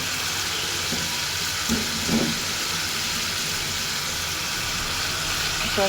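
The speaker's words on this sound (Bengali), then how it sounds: "পাবদা মাছ ভাজা পাবদা মাছ দিয়ে দিচ্ছি" Pabda fish frying in a pan, a steady close sizzle with a few faint clinks and stirring sounds partway through.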